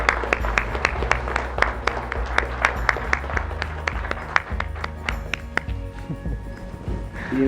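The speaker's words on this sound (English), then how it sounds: "And a round of applause for excellent rings there." A round of applause at a wedding ceremony at House for an Art Lover, with lively clapping from the guests plus a few louder close claps, tapering off toward the end.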